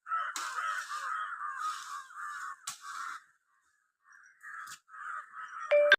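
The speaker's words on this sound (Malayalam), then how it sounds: "വീടിൻ്റെ അടുത്തുള്ള ടവറിൻ്റെ മുകളിൽ കാക്കപ്പട എന്തോ ഒരു സംഭവം ഉണ്ട്." Crows cawing in a flock atop a tower near a house, a run of harsh, repeated caws close by with a brief quiet gap before more calls resume.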